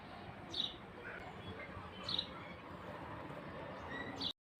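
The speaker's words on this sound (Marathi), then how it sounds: "तोच पक्ष्यांचा चिवचिवाट खूप छान ऐकायला खूप छान वाटतो." Birds chirp outdoors on an evening, with three short, bright calls spaced about every two seconds over a steady background hiss.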